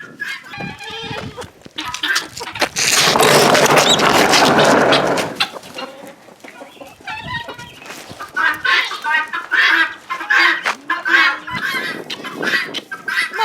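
Chickens cluck in a barn in a steady scatter of short calls, with a loud rustling burst early on.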